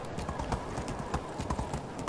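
Horse hooves clip-clop steadily while riding in the game Medieval Dynasty, a quick continuous rhythmic patter over a dense, noisy background, with talk faintly present.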